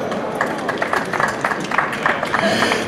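An outdoor crowd at an electric-vehicle rally in Augsburg applauds Miss Augsburg 2019, giving a brief, uneven patter of clapping that mingles with voices.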